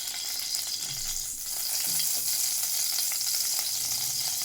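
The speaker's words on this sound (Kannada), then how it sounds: "ನೋಡಿ, ತುಪ್ಪ ಕಾದಿದೆ. ಈಗ ಮಸ್ಟರ್ಡ್ ಅಂದರೆ ಸಾಸಿವೆ ಹಾಕ್ತಾ ಇದ್ದೀನಿ." Mustard seeds sizzle and crackle steadily in hot ghee for a spicy rasam tempering, a dense continuous hiss with a few faint low clinks, loud and close with no voice.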